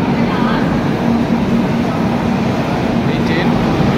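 A train on the route to Tirupati runs with a steady, loud rumble and a constant low hum for the whole stretch, with no break in the noise.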